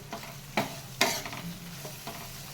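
Chilli powder and garam masala fry with liver in a pan, a quiet sizzle broken by several sharp stirring scrapes and clinks of a spoon, close and alone.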